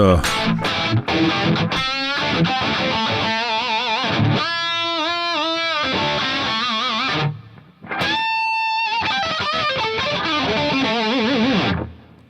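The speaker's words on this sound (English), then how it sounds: "sounds like a Tube Screamer" Overdriven electric guitar through a Tube Screamer pedal model in the Bias FX iOS app, playing sustained chords and single-note lines with a brief drop to near silence around the middle, loud and steady.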